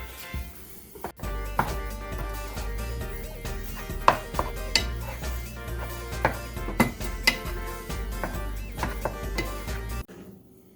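Fried rice being stirred in a pan, with repeated scraping and clinking of a utensil against the pan over a steady low cooking hum; the sounds are close and loud, with no talking.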